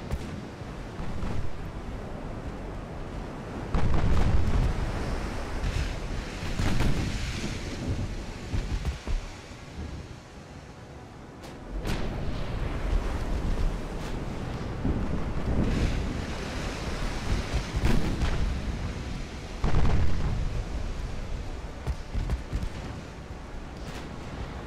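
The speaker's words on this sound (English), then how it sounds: "Let main batteries fire." Main battery guns fire in a dreadnought-era naval battle in Ultimate Admiral: Dreadnoughts, heavy booming blasts rolling over a constant roar of wind and surf, several surges of rumbling across the stretch with no voices.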